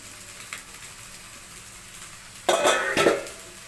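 Egg and rice frying in a pan for fried rice, a faint low sizzle then two louder clattering scrapes of a utensil against the pan near the end.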